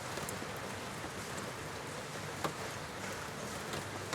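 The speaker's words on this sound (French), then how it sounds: "la pluie qui tombe goutte à goutte sur cette fenêtre" Rain drips and patters softly against a window in a faint, even hiss, with one slightly sharper drop partway through and no voices.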